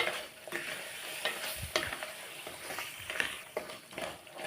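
Cut crab pieces stirred into a spiced curry base in a frying pan, a continuous close sizzle with rhythmic scraping and knocks of the spoon against the pan.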